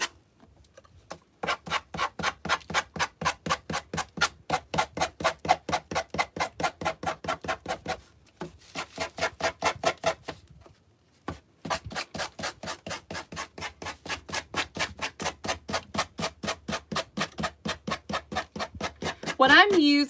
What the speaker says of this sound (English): I'm gonna use my Gator sander and just go all the way around and just get rid